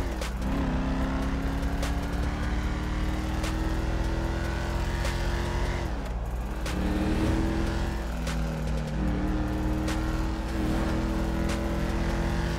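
A car drives along in GTA 5, its engine droning steadily close by with gear-shift dips and rising revs, under background music.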